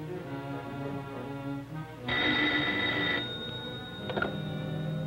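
An old-style telephone bell rings in a clear burst of about a second, near and loud over a background of orchestral music, followed by a shorter ringing fragment.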